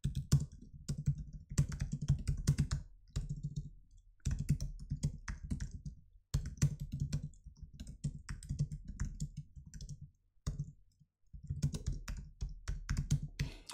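Typing code comments on a computer keyboard, heard as close, rapid clattering key taps in several bursts separated by short pauses.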